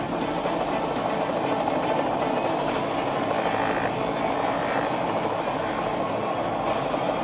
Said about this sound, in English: this is the helicopter takeoff shot